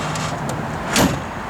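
A door on a 1956 Chevrolet 210 Wagon swung shut, one short solid thump partway through, close by, with a faint ambient hum around it.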